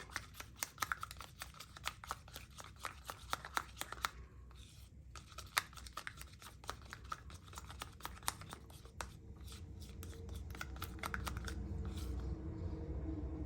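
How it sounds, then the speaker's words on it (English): Acrylic tube paint mixed with Floetrol, stirred in a cup for fluid art, makes faint rapid scraping clicks, steady at first and then fading under a low room hum. "And stir it up"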